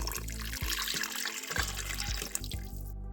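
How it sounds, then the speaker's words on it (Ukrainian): Warm water pours steadily into a container close by for a yeast dough, a continuous splashing stream with faint clinks, no talking. "Наливаємо теплу воду"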